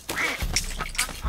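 Rapid, nasal duck quacks from Rayman turned into a duck in the Rayman Legends video game, several short calls in quick succession, loud and close, with no talking.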